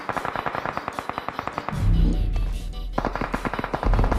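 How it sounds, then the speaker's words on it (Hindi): Sustained bursts of automatic gunfire in a mobile battle royale shooter, a rapid rhythmic rattle of shots that breaks into a denser, rumbling volley with explosive thuds, then resumes steady rapid fire. "ये बंदा मुझे फायर लेता है"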